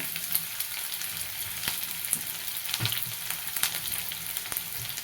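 Onion fries with cumin seeds in a pan, a quiet continuous sizzle with scattered crackles and light stirring taps.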